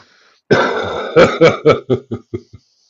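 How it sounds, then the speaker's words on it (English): A close, loud coughing fit: one long harsh cough followed by a run of shorter coughs that fade out. "I've got a bit of a cough this morning too."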